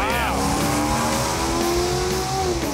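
An LS-powered Pontiac Trans Am launches down a drag strip, its engine revving hard with rising gear tones under an excited commentator's voice, loud and continuous.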